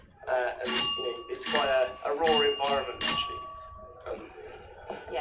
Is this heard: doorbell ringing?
yes